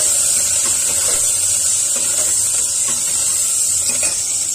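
Tomatoes sautéing in a pan while cooking karunai kilangu (elephant foot yam) kulambu, a steady close sizzling hiss running throughout with faint scattered crackles and no talk.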